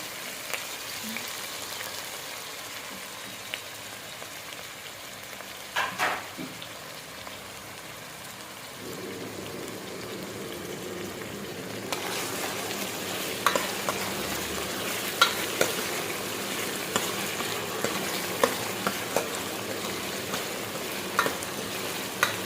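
Capsicum, carrot, onion and cabbage for veg Manchurian fry in a pan. A soft sizzle swells louder about halfway through, with intermittent stirring clatter and scraping close by and no talking.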